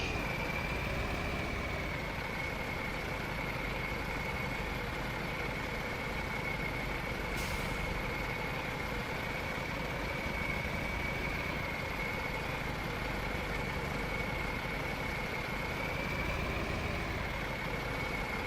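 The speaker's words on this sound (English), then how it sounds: "This is that long wheelbase truck." Long wheelbase truck engine in American Truck Simulator, a steady continuous drone with a constant high whine held at even loudness throughout, alone without talk.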